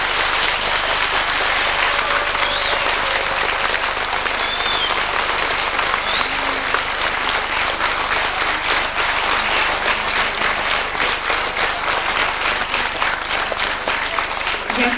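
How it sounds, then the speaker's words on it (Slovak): An audience at a singing contest for children gives loud, sustained applause, with dense clapping from a large crowd lasting the whole time. "teraz by som poprosila potlesk pre všetkých našich spevákov"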